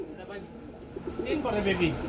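Soft pigeon coos rise near the end, heard beneath a speaking voice in the foreground, with a low murmur of background noise throughout.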